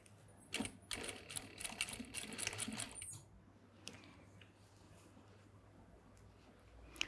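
A sewing machine stitches a seam in a short, fast, rattling run of about two and a half seconds, then stops, leaving a quiet room with a few faint clicks.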